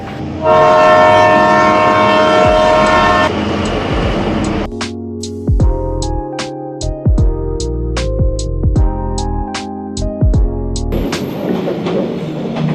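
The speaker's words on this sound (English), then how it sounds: "within a couple of minutes, the train arrived" A train in Vietnam rumbles past at close range, a loud horn blast followed by heavy rolling wheels and rhythmic clacking over the rails, with no talking.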